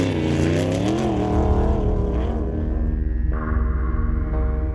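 An off-road race car driven by TJ Flores roars past at high speed during the Mint 400 desert race near Las Vegas, its engine loud and close with a rising and falling pitch and gear changes, no voices.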